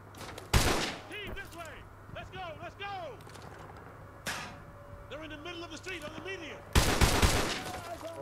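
Gunfire in the Modern Warfare 2 Remastered campaign, with loud sharp bursts near the start, middle and end, separated by a busy mix of battlefield effects and chirping sweeps, and voices talking throughout.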